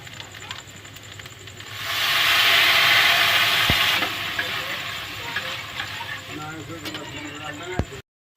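Milk poured into a hot pan of fried Gobindobhog rice with cashews and raisins sets off a loud steamy hiss that swells, then settles into a softer bubbling, with a voice speaking nearby.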